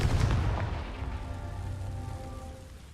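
Confringo blasting spell in Hogwarts Legacy, a single heavy explosive boom at the start followed by a crackling, rumbling decay that fades out over a few seconds.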